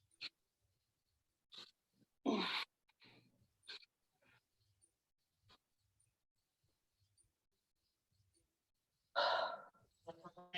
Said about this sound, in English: Slow deep breaths right here.